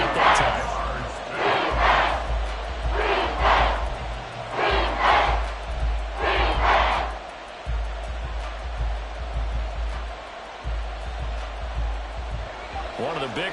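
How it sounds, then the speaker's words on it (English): Stadium crowd in an American football video game swelling in waves of cheering ahead of a big third down, loud and broad, with a commentator talking over it. "the crowd getting into it as we come up on a big 3rd down"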